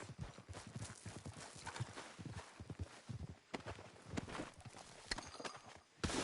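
Steady clip-clop of horse hooves walking in the video game Red Dead Redemption 2, rhythmic and continuous, with occasional snorts and jingling gear over a faint background.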